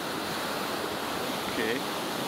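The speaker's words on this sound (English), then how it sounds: "They can hear the sea." Constant wash of sea waves on a turtle-nesting beach, a dense, even roar of surf with a brief faint tonal sound partway through, near and moderately loud.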